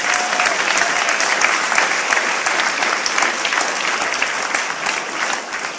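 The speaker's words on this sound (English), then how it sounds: "Let's give them a nice round of applause." Steady, dense applause from a rally crowd honoring coffee farmers from Kona, Hilo and nearby towns, continuous clapping at even loudness throughout with a slight drop near the end.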